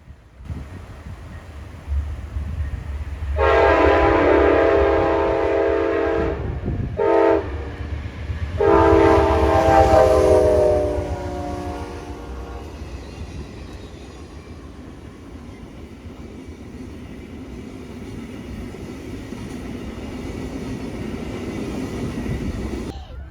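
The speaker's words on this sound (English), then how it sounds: "to see Amtrak Special Move number 968 with the first ever Cascades Siemens Aero train set being moved to Philadelphia for testing" An Amtrak special move carrying a Siemens Aero trainset sounds loud blasts on its multi-tone horn, two long and one short, then rumbles and rattles past close by on steel rails.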